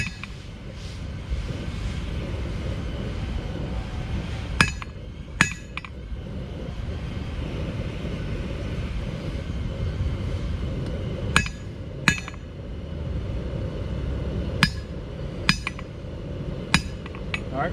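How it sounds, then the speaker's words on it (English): A blacksmith hammers hot steel on an anvil while thinning a taper for a leaf, with sharp ringing strikes spread irregularly through the clip over a steady forge roar and workshop background. "Half face blow, half on the anvil,"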